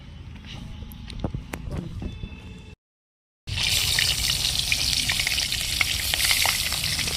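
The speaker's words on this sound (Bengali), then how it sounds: "এবার পেঁয়াজ লাল করে নিয়েছি, আর এই উচ্ছেগুলো লাল লাল করে ভেজে দিলি" Bitter gourd slices frying in pure mustard oil with onions browned in a home kitchen, a steady broadband sizzle with stirring, briefly cut off by a gap, then returning louder and continuous.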